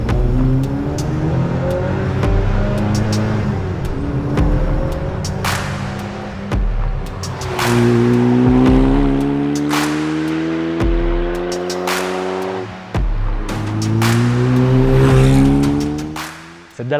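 A Dallara Stradale sports car on the Passo Giau mountain road in the Dolomites, its engine revving hard through repeated rising pulls and gear changes, loud and close, with tire noise between bursts.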